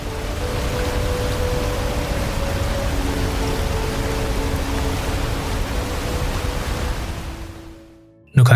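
The Nohkalikai waterfall in Cherrapunji, India's tallest plunge waterfall, produces a steady, broad roaring wash of falling water, unbroken and constant, before the sound cuts off abruptly at the end.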